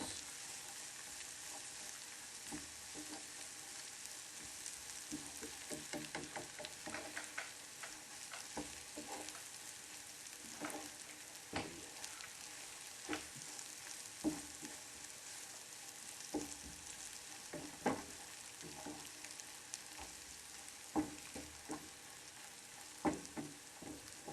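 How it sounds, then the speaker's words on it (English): A mixture is stirred in a skillet and sizzles steadily as it melts, with scattered scrapes and taps of the utensil against the pan over the frying hiss, close by and without speech. "Mix this all up nicely till it melts."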